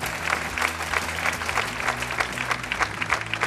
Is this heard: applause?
yes